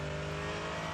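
A BMW-class race car at the Nürburgring 24 Hours drives by with a loud, steady engine drone holding a strong tone throughout the brief moment.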